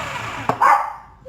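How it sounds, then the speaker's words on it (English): A dog gives a single short, sharp bark in a kitchen, reacting to a noisy kitchen machine running in the background, with a faint steady hum behind it. "And that's my dog."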